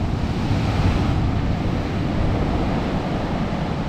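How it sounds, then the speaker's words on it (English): Ocean surf rolls in under strong wind, a steady, loud roar of breaking waves mixed with heavy wind buffeting the microphone, with no voices. "Super windy. It is. There's definitely some waves though."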